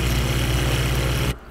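An aircraft engine in Microsoft Flight Simulator 2020, heard from outside the cockpit, gives a steady, loud, low droning hum that cuts off abruptly near the end and leaves only a faint residue.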